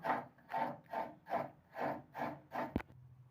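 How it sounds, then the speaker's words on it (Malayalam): Coconut is grated by hand on a scraper in seven even, rhythmic rasping strokes, close and clear, ending with a sharp knock and then quiet. "തേങ്ങ ചിരണ്ടുകയാണ്"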